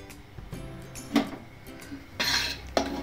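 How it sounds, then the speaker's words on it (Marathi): Thick besan barfi mixture scraped out of a cooking pan onto a plate, metal utensils clinking and scraping in a few short bursts with quiet gaps between, close by and without talk. "आपण या ताटामध्ये काढून घेणार आहोत"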